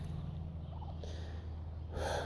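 Turkeys on a small farm give a brief gobbling call over a low steady hum and background noise, fairly faint and short.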